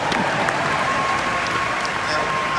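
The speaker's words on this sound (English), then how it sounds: "Clap for me." A large crowd at the 2019 FIU university commencement bursts into dense, continuous applause, a steady wash of clapping with scattered cheering voices mixed in throughout.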